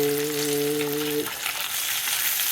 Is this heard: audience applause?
no